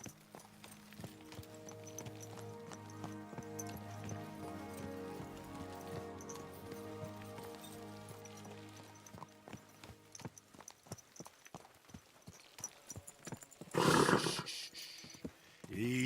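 Horse hooves clip-clop steadily at a walking pace in Kingdom Come: Deliverance II, close and moderately loud, with a brief louder burst of noise near the end.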